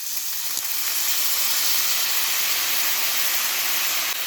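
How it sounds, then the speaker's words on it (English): Pork sizzles loudly in a pan after soy sauce is poured in, a steady hissing fry with a brief clatter near the start, no voices. "So now we're going to add our seasoning. Some soy sauce."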